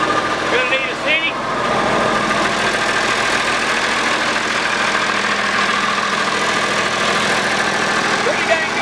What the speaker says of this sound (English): Pretty dang good running tractor now.